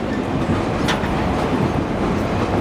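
The Verde Canyon train rolls along its rails through an Arizona canyon, a continuous close rumble and rattle of wheels and cars with no distinct beats and no voices.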